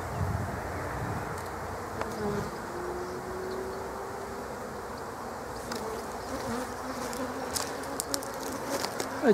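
Agitated honeybees swarm and buzz around a hive fitted with a pollen trap, a dense continuous drone heard close up with no talking.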